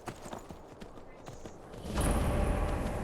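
Horse hooves clip-clopping as a rider travels on horseback in Skyrim, a quick irregular patter of hoof strikes that grows louder and denser near the end.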